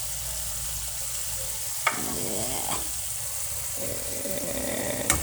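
Rice being stir-fried with sliced beef in a pan for kimchi fried rice: a soft continuous sizzle broken by a few clattering stirs and scrapes, with no talk.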